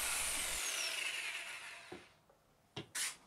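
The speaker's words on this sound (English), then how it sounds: "I then used a fine-toothed blade in the jigsaw to cut the waste out" A jigsaw with a fine-toothed blade rasps steadily through plastic for over half a second, then stops; a few sharp knocks and a short scraping burst follow.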